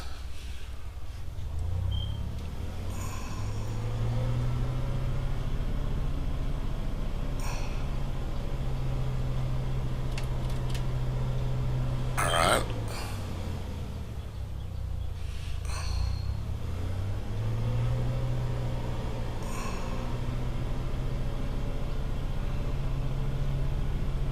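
A light piston aircraft engine in the Prepar3D flight simulator runs up toward 2000 RPM, a steady loud drone with a low tonal hum that rises and shifts in pitch, heard alone without talk.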